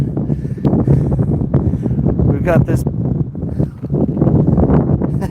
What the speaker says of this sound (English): Windy out today.